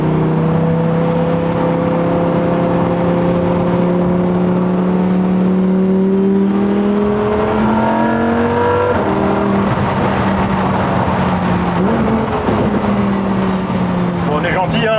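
Lamborghini Huracan Performante V10 pulling hard from inside the cabin, the loud engine note rising steadily through the gears with brief shift dips and a continuous roar, while occupants talk.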